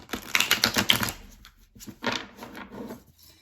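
Small tarot charms are shuffled by hand, a dense run of light clicking and rattling, then a pause and a second, softer burst of clatter.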